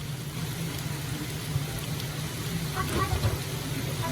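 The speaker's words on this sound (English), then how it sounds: "You want it to stop raining." Steady rain falls on an RV at a state park campground in Delaware, a continuous hiss with soft patter heard from inside, fairly close and even throughout.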